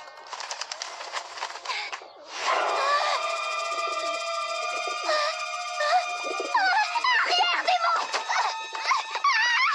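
Cartoon pigeons in a garden coo and warble, starting with soft, scattered calls and then swelling into a louder cluster of sustained, tonal cooing and chattering calls that continues for several seconds.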